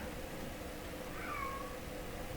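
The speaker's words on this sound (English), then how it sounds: "Oh, I hear a kitty." A single short cat meow rises faintly over a steady background hum, brief and somewhat distant.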